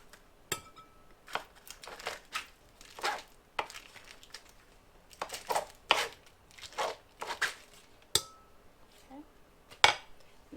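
Cream cheese and butter being mixed by hand in a bowl for cupcake frosting, heard as irregular close tapping and scraping clinks of a utensil against the bowl, fairly soft, with quiet pauses between strokes.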